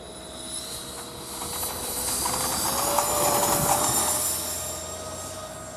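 A radio-controlled Boeing 737-style model jet takes off, giving a steady rising jet whine and rushing hiss that swells toward the middle and then eases, with no voices.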